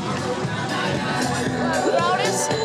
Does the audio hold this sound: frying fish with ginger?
no